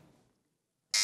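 A quiz buzzer is tested during a kids' Islamic quiz show buzzer round, a sudden loud harsh tone bursting in after a brief quiet pause, following faint sound at the start.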